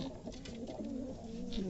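Pigeons on a rooftop at night coo in soft, low, continuous throaty calls, fairly close and alone, with no talk.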